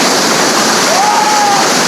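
Loud, dense roar of a large waterfall in Bangladesh fills the whole moment, with a faint whistling tone briefly rising over it.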